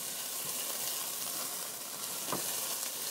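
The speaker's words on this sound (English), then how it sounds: "I'm going to go ahead and put in that garlic as well. Just keep stirring them, cook them for a few minutes." Garlic and onions sizzle steadily in a hot pot as the base for a grouper in tomato and wine sauce, with occasional soft scrapes of a spoon stirring them.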